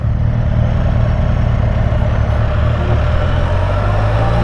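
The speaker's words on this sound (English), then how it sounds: "Riding his 2009 Hayabusa." A 2009 Suzuki Hayabusa motorcycle engine runs steadily and loudly up close on a ride along the Natchez Trace, a continuous deep droning rumble with no talking.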